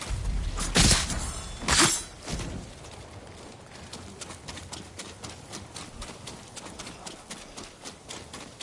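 Horse hooves gallop in the video game Ghost of Tsushima, rapid rhythmic clip-clop thuds over rushing ground noise, louder at first with a couple of heavy impacts, then steadier and quieter.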